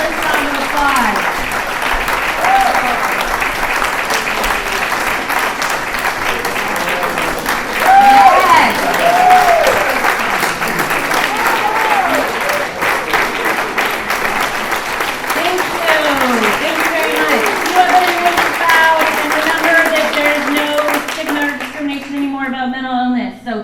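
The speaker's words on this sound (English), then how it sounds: "All the comedians up here for one more fabulous round of applause" A comedy show audience gives the comedians one more round of applause: a loud, sustained wash of crowd clapping with cheers and voices mixed in, lasting over twenty seconds before cutting off.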